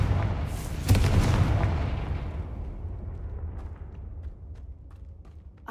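Confringo fire spell in the Hogwarts Legacy video game exploding with a heavy, near boom just under a second in, followed by a long rolling rumble that slowly decays, with faint clicks at the end.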